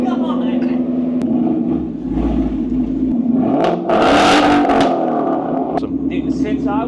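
A loud Ford Mustang engine rumbles and revs up close, building to a strong surge before settling back, with excited voices talking over it.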